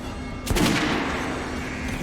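A single sharp gunshot cracks out in a firearms range in the Metro Last Light game, then rings and fades over a steady low background hum.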